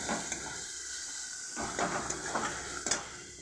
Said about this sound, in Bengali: ভালো করে মশলাটাকে আমি ভেজে নিচ্ছি, যাতে জিনিসটা সুস্বাদু হয়